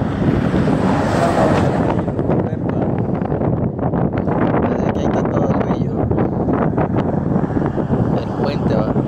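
Rushing water of the Lempa River and heavy wind buffeting the microphone, a steady roar throughout with faint voices underneath.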